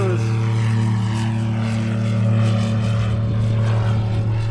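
A Raffle Nomad light propeller aircraft taking off, its engine a loud, steady buzzing drone with a strong propeller hum, swelling slightly midway and continuing without a break.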